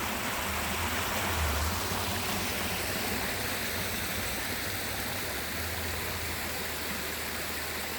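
A brook flows through woods in Northern Maine on a hot day, a steady, close rushing and babbling of water that holds an even level with no voices.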